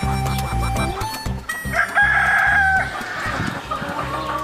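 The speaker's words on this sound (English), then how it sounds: "The scientists pick a random subset of Hoffmann's 40 chickens to study" Chickens from a flock of about 40 kept at a farm home, loud and close, with layered clucking throughout and a rooster crowing clearly through the middle.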